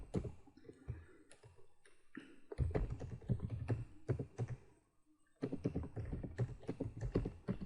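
Someone types a line of C code on a computer keyboard: rapid, steady keystrokes near the mic, broken by a brief pause before the tapping resumes.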